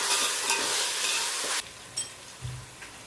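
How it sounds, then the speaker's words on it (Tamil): Ginger garlic paste sautéing in hot oil for chicken biryani, a loud close sizzle for about a second and a half that suddenly drops away, followed by a few quiet scrapes and stirring knocks. "போட்டு ஃபஸ்ட்டு நல்லா பச்சை வாடை போகிற வரைக்கும் நம்ம வதக்கிக்கலாம்."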